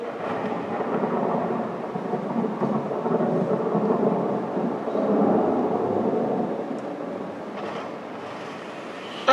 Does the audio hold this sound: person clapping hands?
no